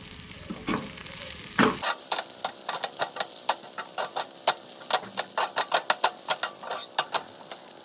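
Onion frying with dried red chillies and a little coriander leaf in a pan, a steady sizzle broken by many sharp scraping stir strokes in an irregular rhythm, close and fairly loud after a brief noisier opening.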